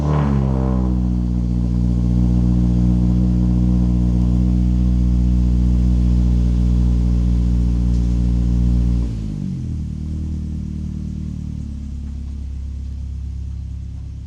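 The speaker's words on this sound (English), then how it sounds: "I'm going to insert a video clip of a cold start right here." Cold start of a Subaru Crosstrek Wilderness fitted with a Nameless Performance axle-back exhaust: the engine cranks, catches and holds a loud, deep, rumbling high idle, then drops to a quieter, lower idle.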